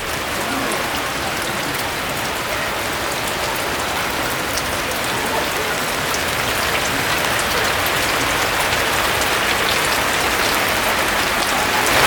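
Steady, dense rain pattering on a hard surface in Mallavaram village, loud and continuous throughout with no voices.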